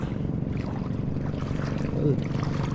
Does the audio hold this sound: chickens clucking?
no